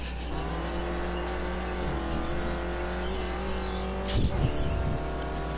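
A sport touring race car's engine drones steadily at speed on a road course, heard from inside the car, with a brief surge and rattle near the end as power comes back on.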